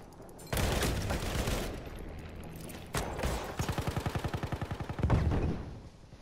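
Battlefield 1 gunfire in online multiplayer: heavy shots and a rapid automatic burst, plus a loud blast near the end, against steady battle noise with no talking.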